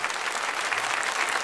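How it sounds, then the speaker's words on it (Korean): A church congregation claps together in a dense, sustained burst of applause, steady and close throughout with no voices over it. "박수!"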